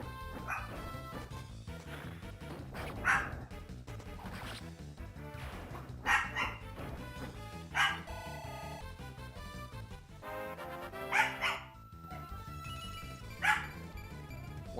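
A female dog resisting kennel training lets out scattered barks and yips, five or six sharp outbursts at uneven intervals, set back behind continuous game music.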